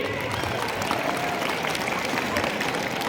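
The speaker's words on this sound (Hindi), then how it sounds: "जोरदार तालियां हो उनके लिए" Dense applause from a crowd at a Republic Day celebration, steady clapping sustained throughout without a break.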